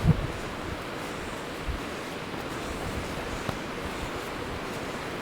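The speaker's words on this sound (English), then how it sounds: "There's plenty of water in the river, so the waterfall might be quite good today as well. Yes, there's a waterfall." Waterfall on a full river at Malham Cove in the Yorkshire Dales, a steady broadband rush of falling water heard from some distance, even and unbroken, with light wind noise on the microphone.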